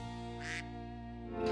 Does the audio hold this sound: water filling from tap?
no